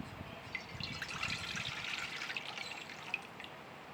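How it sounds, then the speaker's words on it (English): Juice pours into a stainless steel pot, a soft, steady trickling and splashing of liquid with faint drips, heard close and alone. "So what you want to do with this juice is put it into a stainless steel pot"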